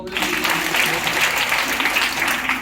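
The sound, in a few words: audience clapping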